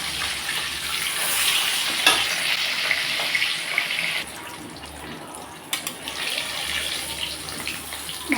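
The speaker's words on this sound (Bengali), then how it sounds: "মাছগুলোকে এখন আমি ভেজে নেব।" Hilsa fish pieces rubbed with turmeric and salt frying in mustard oil in a kadai, a loud steady sizzle close by that drops in intensity midway, with occasional clinks and spatters.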